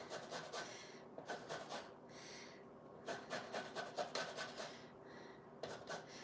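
Citrus peel is zested with a hand zester: quiet, rhythmic rasping scrapes come in short repeated bursts, close by, with no talking.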